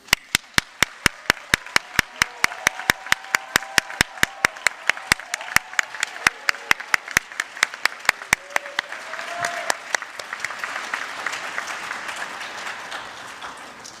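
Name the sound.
audience applause for the 2021 nursing graduates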